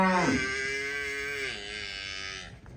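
A cow moos loudly and close by, one long drawn-out call with a rising then falling tone, with no talking.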